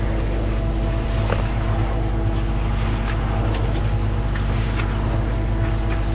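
A concrete mixer turns a can of Coca-Cola into a dry concrete batch, giving a loud, steady churning rumble with a low droning hum that continues without pause.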